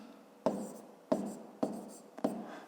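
A pen writes numbers by hand on paper during a fifth-grade maths addition exercise, four quick scratchy strokes in a steady rhythm, close and quiet.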